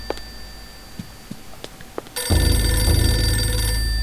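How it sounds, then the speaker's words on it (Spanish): A telephone rings in the horror game Eternal Darkness: Sanity's Requiem, its bright, steady electronic trill cutting in loudly after about two seconds of quiet ambience and faint taps, then sounding continuously to the end. "¡Teléfono! ¡Teléfono!"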